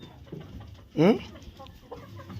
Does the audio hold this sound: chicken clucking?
yes